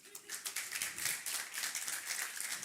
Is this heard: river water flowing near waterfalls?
no